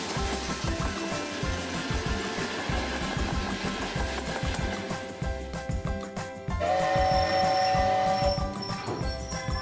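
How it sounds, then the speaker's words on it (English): A steam locomotive chugs with rhythmic low pulses and a loud, continuous rolling rumble, then a sustained whistle-like tone joins partway through. "Steam locomotive."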